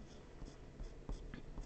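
A pen sketches a graph on paper: faint, close scratchy strokes in short repeated bursts, quiet and alone.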